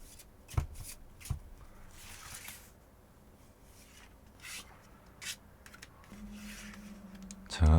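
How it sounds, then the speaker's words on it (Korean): Tarot cards shuffled by hand, a soft papery riffling and rubbing with a few sharper taps and a brief knock at the end, close and quiet, with no talking. "자, 카드 섞어보겠습니다."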